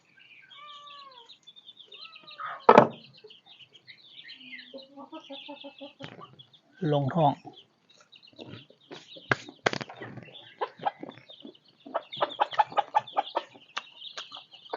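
Chickens clucking and squawking at close range at a rice-field hut in Laos, with bursts of loud calls and scattered flutters; a brief voice speaks in the middle.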